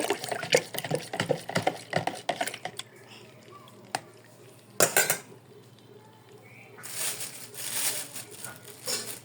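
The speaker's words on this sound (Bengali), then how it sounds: "এখন আমি ভালোভাবে নেড় দিব" Stirring lemon and isabgol husk sherbet made with sugarcane jaggery, a spoon clinking rapidly against the glass near at hand, then a pause and a softer swirling of liquid, while someone talks.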